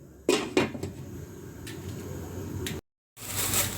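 A lid is set back onto a cooking pot of yellow zucchini and misua, with two sharp metallic clanks near the start, lighter clinks afterward, then a brief silence before steady kitchen noise returns.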